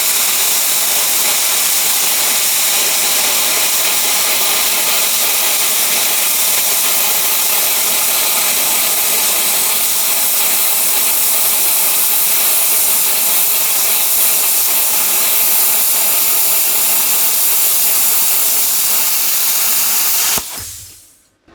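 A VEVOR CUT-50P plasma cutter slices through half-inch metal with a loud, continuous harsh hiss that holds steady for about twenty seconds before abruptly shutting off; no talking.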